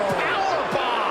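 A powerbomb lands with a heavy slam in the WWE Extreme Rules 2019 wrestling video game on PS4, with commentators talking over the arena crowd noise.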